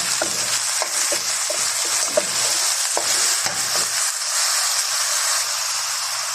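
Minced meat for sambosa fries in a hot pan with a constant bright sizzle, broken by a quick series of scraping stirs early on before the sizzle settles in alone.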